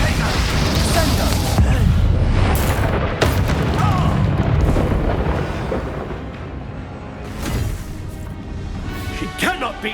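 A booming explosion spell, Confringo, bursts in Hogwarts Legacy amid heavy combat noise, with loud blasts and crashes early that fade to a lower rumble before further sharp hits near the end; a voice speaks over the action.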